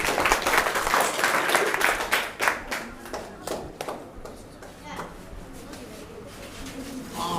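A school science exhibition audience applauds students' volcano model: dense clapping for about four seconds, then tapering into scattered, fainter claps.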